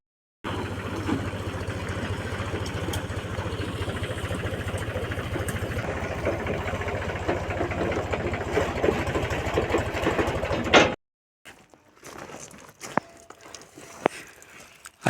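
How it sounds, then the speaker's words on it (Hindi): Tractor engine idles near a construction site with a mixer machine, a steady close rhythmic chugging for about ten seconds before cutting off, followed by faint scattered noises. "ट्रैक्टर आते पानी भरे बर।"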